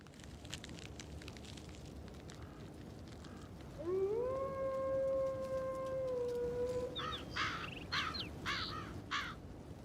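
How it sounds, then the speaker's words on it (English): Ambient wildlife in the Project Zomboid video game: a single long, drawn-out wolf howl rises and holds for several seconds, followed by a burst of harsh crow-like bird calls, all over a quiet outdoor background. "there's various sound effects like a wolf howling and birds in the background"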